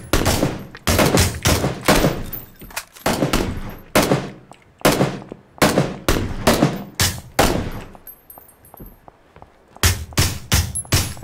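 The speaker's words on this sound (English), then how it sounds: "Help me shoot this Jeep." Bursts of automatic gunfire in PUBG aimed at a Jeep: loud, close volleys of rapid shots in repeated clusters separated by short pauses, with quieter single shots in one gap.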